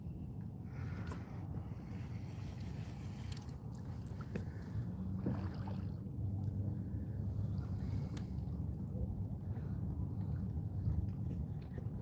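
Steady wind rushing and buffeting over an open-water fishing boat near rocks, a constant low roar with faint knocks and creaks, no talking.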